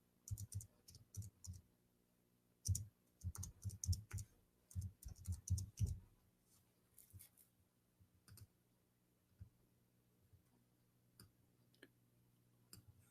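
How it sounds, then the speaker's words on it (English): Bursts of clicky keystrokes on a computer keyboard come in quick rhythmic runs for the first six seconds. Sparse isolated taps follow over a quiet background. "I'm typing in English."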